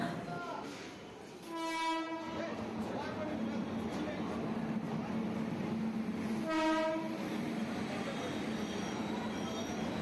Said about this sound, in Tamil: எங்கள் ட்ரெயின் வர்றதுக்கு முன்னாடி ஒரு நாலு ட்ரெயின் கிராஸ் பண்ணி போயிடுச்சு